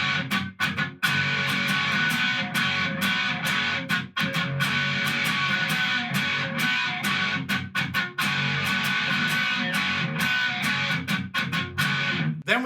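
Distorted electric guitar strums the chorus of a song in a driving, choppy rhythm with frequent palm-muted stops, steady and close, with no voices.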